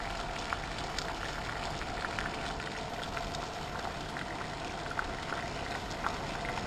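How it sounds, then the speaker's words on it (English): Water coming to a boil in a Batchstovez 22 oz cook pot during an outdoor side-by-side boil test, a steady hissing, bubbling roar with faint crackles, continuous and even throughout. "we're starting to boil here"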